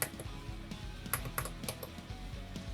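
Small clicky push-button switches pressed on an electronics breadboard, giving a run of quick, light clicks over a steady low hum in the background.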